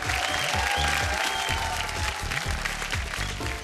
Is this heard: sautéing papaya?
no